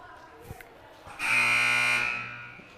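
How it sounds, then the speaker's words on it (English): Scoreboard buzzer in a gym during a volleyball match, sounding one loud, harsh, sustained blast of about a second after a few quiet knocks, then fading away. "Big Scary Buzzer's back."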